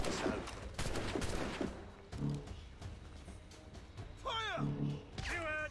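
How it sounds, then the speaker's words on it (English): Gunfire in Assassin's Creed Rogue, a dense burst of musket shots at the start followed by scattered firing, mixed with shouting voices and game music. "They're shooting back!"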